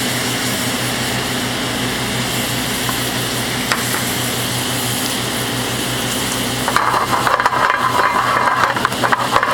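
Carrots sizzle in butter in a pan with a loud, dense, continuous hiss, shifting to a rougher, crackling texture for the last few seconds.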